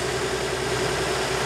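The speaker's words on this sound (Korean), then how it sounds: "지금 시동이 걸어져 있습니다. 엔진이 잘 회전을 하고 있고요." A car engine idles steadily just after being started, a constant low hum with even vibration, close and moderately loud, with no talk.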